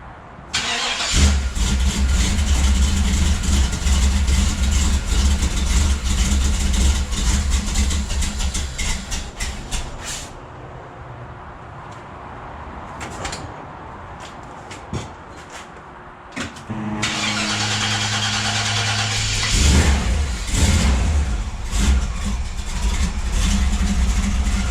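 A Chevy Nova V8 with a carburetor and a new Turbo-Hydramatic transmission cranks and fires, settling into a loud, rumbling idle, then drops quieter for a few seconds before revving back up to a strong, steady idle.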